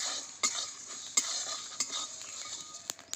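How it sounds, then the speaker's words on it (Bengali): Fenugreek and other spices dry-roasting with a little salt in a dry pan for a raw mango pickle: a soft, close crackle under a few sharp scrapes and taps of a spatula against the pan, with no voices. "মশলাটা কিন্তু চটপট করে ফুটছে"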